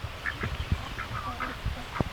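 Ducks quack in short bursts out on a rainy homestead, several calls scattered across a busy background of rain and yard noise, moderately close.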